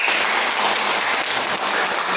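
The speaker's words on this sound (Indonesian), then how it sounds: "Bagus, tepuk tangan." A classroom full of students claps steadily, a dense, even patter of applause that holds throughout without pause.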